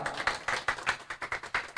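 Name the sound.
audience applause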